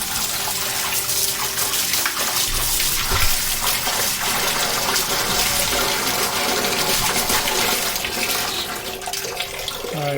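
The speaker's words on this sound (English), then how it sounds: "I'm gonna turn both the hot and cold water on." Hot and cold water run together from a Glacier Bay wall-mounted faucet, a strong, steady gush splashing into a basin for about ten seconds, close and loud with no talking.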